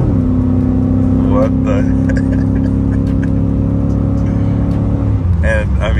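A Jeep Grand Cherokee WJ engine holds a steady high drone as it is revved toward redline, loud and sustained throughout, with a man's brief exclamation and other voices partly over it.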